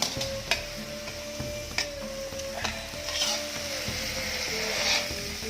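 Frog meat with holy basil is stir-fried in a hot pan, giving a steady sizzle broken by sharp clicks and scrapes of the spatula against the pan. The sound is close, with no talking.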